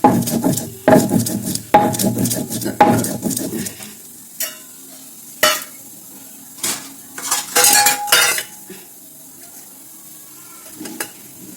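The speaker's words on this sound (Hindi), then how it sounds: "तो देखिए अब मसाला पीस लेती हूँ खाना बनाने के लिए" Stone grinding spices at home for desi-style urad dal, with rough scraping and knocking strokes in dense bursts at first, then sparser, separate clatters and rubs against a quiet background.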